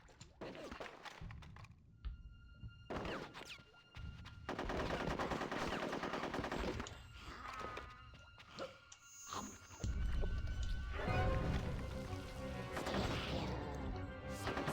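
Bursts of video game gunfire in Conker's Bad Fur Day, rapid machine-gun volleys and sharp crashes stacked over busy game sounds and music, loud and dense across the whole stretch.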